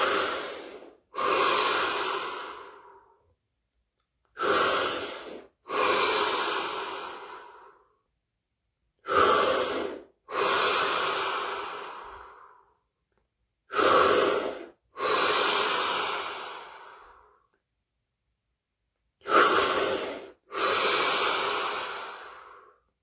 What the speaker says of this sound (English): 7 deep breaths